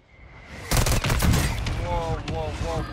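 Incoming mortar fire in the video game Call of Duty Warzone, a sudden burst of loud sharp blasts and crackling impacts, then a sustained rumble with a player's voice speaking over it.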